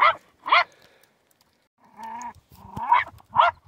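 A hunting dog barks in a forest during an earthdog den hunt near a stone foundation, giving two sharp barks, a drawn-out whine, then two more loud barks at close range.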